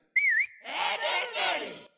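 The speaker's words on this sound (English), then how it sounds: "what is with intros and catchy whistling in it?" A short, bright wavering whistled melody, then a catchy tune continues with upbeat music underneath, clear and close.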